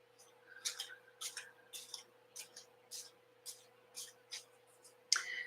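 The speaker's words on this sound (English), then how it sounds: "so I just shuffle 2 decks, but it's 1 deck total." Two decks of thick tarot cards are shuffled in a quiet room, with about ten soft, evenly spaced riffling bursts and a slightly sharper snap near the end.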